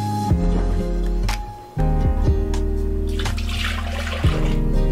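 Fresh water runs from a tap into a container while chili is being cooked at home, a close, continuous splashing stream broken by brief pauses and shifts in the flow.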